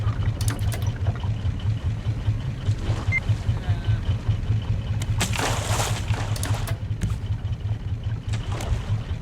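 A raft's engine runs steadily in the Raft survival game, a low droning motor hum with rhythmic chugging and a few brief splashy bursts, continuous and fairly close with no talking.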